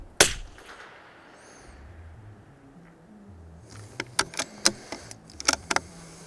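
.22 rifle fired from a tripod outdoors: one sharp, loud crack at the start, then quiet, followed by a run of small, sharp clicks and clacks.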